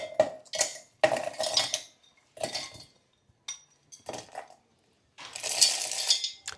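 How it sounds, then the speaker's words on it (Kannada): Cooled, peeled jackfruit seeds are tipped into a metal mixer jar in several close bursts of hard rattling and clinking, separated by short quiet gaps, with a final longer clattering pour and no talking. "ಈಗ ಒಂದು ಮಿಕ್ಸಿ ಜಾರಿಗೆ ಹಾಕ್ಕೊಳ್ಳೋಣ."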